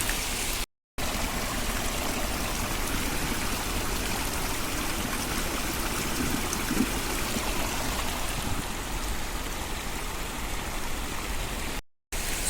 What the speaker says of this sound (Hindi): तो मैंने सोचा कि क्यों ना पानी भर लेते हैं पीने के लिए।